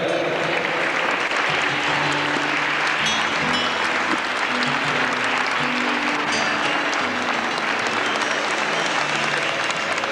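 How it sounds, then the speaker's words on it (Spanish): A festival audience gives loud, sustained applause after a children's choir performs at a choral festival, a dense, continuous roar of clapping that fills the whole stretch with faint crowd murmur beneath. "mientras aplaudimos a los niños"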